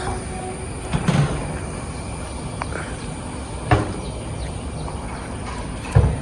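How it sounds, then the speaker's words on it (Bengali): On a high bridge in Kerala, a train rolls in with a steady rumble and roar, broken by sharp clanks and metallic squeals that stand out loud and close. "ট্রেন আসছে সামনে থেকে,"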